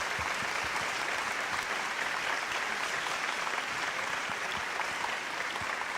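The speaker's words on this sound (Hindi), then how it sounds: "जोरदार तालियां" Audience applause at a stage event, a steady, dense clapping that stays even and continuous throughout without any talk.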